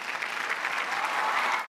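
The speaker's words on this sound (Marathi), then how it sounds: "जोरदार टाळ्या झाल्या पाहिजेत" A studio audience at a televised comedy show bursts into sustained applause, a dense wash of clapping that holds steady for a moment before cutting off.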